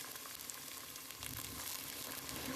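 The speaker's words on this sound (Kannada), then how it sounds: "ನೋಡಿ, ಚೆನ್ನಾಗಿ ಫ್ರೈ ಆಗ್ತಾ ಇದೆ." Onion, fenugreek leaves and sprouted moong fry in a pan, giving a quiet, continuous sizzle with small crackles and pops, close up and alone.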